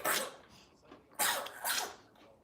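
Two sharp, close sneezes about a second apart, each a loud burst fading quickly, with quiet breathy noise between them and no talking.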